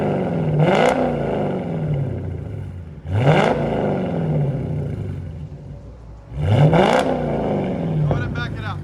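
A straight-piped Dodge Challenger SRT/8 with a 6.1L HEMI V8 revs hard three times, each a loud, close, rising roar that falls back to a rumbling idle, with brief crackle at the end.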